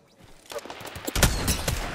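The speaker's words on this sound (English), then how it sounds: "This guy keeps shooting at me." Gunfire in Apex Legends, with rapid overlapping shots from a firefight that build from fairly distant pops into louder, denser bursts over steady game noise.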